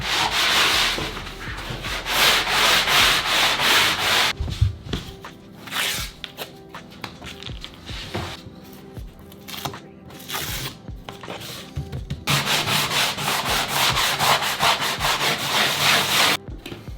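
Sanding a bathroom wall during renovation wall prep, close and loud with continuous rhythmic rasping strokes and short pauses throughout.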